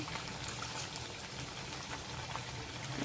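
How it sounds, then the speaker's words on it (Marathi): Potato sticks for French fries bubble and sizzle in hot oil, a steady, dense crackling hiss that carries on evenly throughout without any voices. "दुसऱ्या साईडने पण छान गोल्डन फ्राय करून घेऊया"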